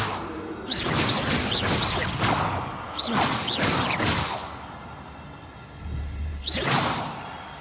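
Incendio fire spells cast in Hogwarts Legacy burst out as repeated whooshing flares, in clusters of sharp swishes and crackling rushes with short pauses between.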